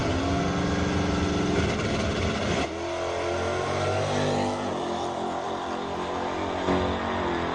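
A 1966 Dodge Charger drag car with a full muffler system roars at high revs on the strip, then briefly drops in pitch as it shifts before surging on loud and sustained.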